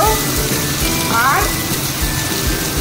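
Apples fry in hot oil with black mustard seeds, giving a close, steady sizzle with crackles throughout. A voice talks over it.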